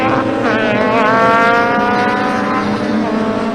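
BMW E30 M3 race cars thunder past at Donington Park at twilight, several loud, close engines revving and overlapping with rising and falling pitch as the pack sweeps by.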